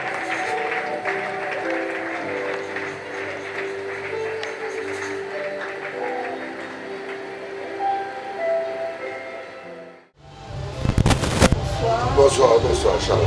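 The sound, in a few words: applause and cheering for Jesus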